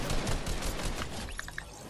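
Gunfire in the Fortnite video game, a rapid burst of shots in the first second then fading, with a few sharp electronic blips at the end.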